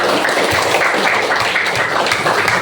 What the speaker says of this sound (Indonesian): tepuk tangan untuk kita semua yang sudah belajar